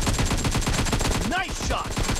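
Sustained automatic gunfire in a shooter video game, with rapid evenly spaced shots rattling loud and close, and a brief voice calling out partway through.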